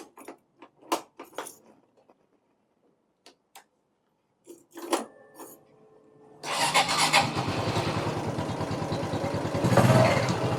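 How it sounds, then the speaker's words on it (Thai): A Honda Wave i motorcycle with a five-year-old battery, preceded by scattered clicks and key handling, then the engine catches on the first try and settles into a steady close idle that swells briefly near the end. "สตาร์ทครั้งเดียวติดนะฮะ"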